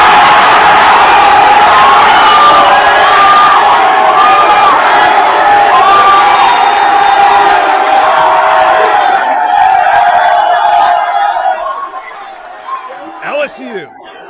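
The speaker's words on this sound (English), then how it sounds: "the crowd goes crazy" A big crowd roars and cheers at a live LSU Tigers commitment announcement for a running back, with loud, dense whoops and voices shouting over each other. The noise holds for about ten seconds, then thins and fades to scattered voices.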